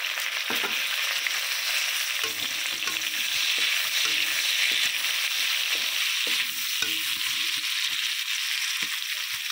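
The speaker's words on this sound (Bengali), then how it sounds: "পেঁয়াজগুলোকে আমি ভালো করে লাল লাল করে ভেজে নেব" Steady loud sizzling of chopped onions frying in oil until browned, with scattered stirring clicks and scrapes throughout; no voices.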